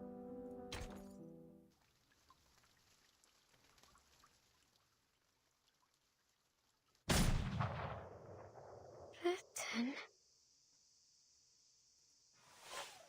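A single bullet fired from a gun barrel in the video game Reverse: 1999 cracks out loudly after a quiet stretch, followed by a long ringing, whooshing tail and a couple of softer impacts.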